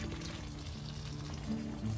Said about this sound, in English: I'll just mix it up in my water can and pour it right over the soil line.